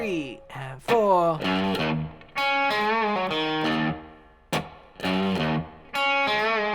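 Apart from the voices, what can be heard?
electric guitar blues riff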